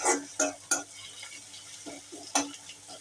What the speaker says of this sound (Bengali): পেঁয়াজ কুচিটা একটু নেড়ে চেড়ে ভালো করে ভেজে নিব